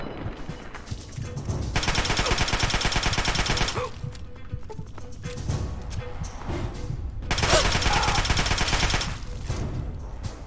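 Rapid automatic gunfire in the video game Fallout 3 aimed at an enemy's arm comes in two loud sustained bursts, with softer clatter and impacts between them.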